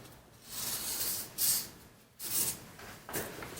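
Hollow plastic scraping and rubbing as a model railroad bridge piece is moved on the layout, coming in several close, soft hissy bursts with no talk.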